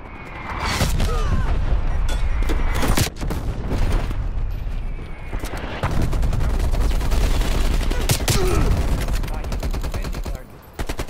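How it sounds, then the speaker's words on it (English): A dense artillery barrage pounds a match of the video game Call of Duty Black Ops Cold War, with continuous loud rumbling blasts and crackling gunfire layered over each other and brief lulls, under faint game voice callouts. "Artillery inbound."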